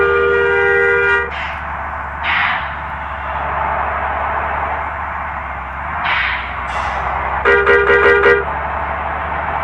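A bus horn in a bus simulator game blares loud and long at the start, then fires a rapid burst of short honks near the end, with a steady engine drone underneath.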